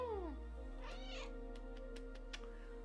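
A cat lets out a single drawn-out, complaining meow while being squished during costume crafting, close and fairly soft, followed by a few faint clicks.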